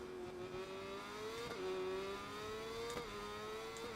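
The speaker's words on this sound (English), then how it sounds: "I can hear the engine from the R1 purring in the distance." A Yamaha R1 superbike in the SBK 22 racing game at Donington Park drones in the distance with a faint, steady engine hum that climbs in pitch through each gear and dips briefly at two shifts, with no voices.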